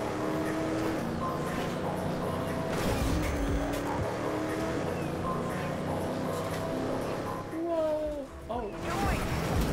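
A car in the racing video game TrackMania Turbo drifting, its engine droning steadily with squealing tires that whine and slide in pitch near the end, while a person talks over it.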